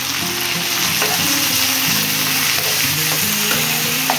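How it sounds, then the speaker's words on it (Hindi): Steady loud sizzling of tomatoes and ginger-garlic paste frying in a pan over medium flame, with a continuous crackle and hiss throughout and no voices. "ये जो अदरक लहसुन का पेस्ट है उसे भी डालकर 5 मिनट भूनना होता है मीडियम फ्लेम पे"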